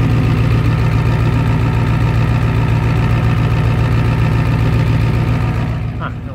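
An old Ford F-250 with a 7.3 IDI diesel V8 idles after sitting a long time, a loud, steady, close-up low clatter with an even rhythmic chug throughout.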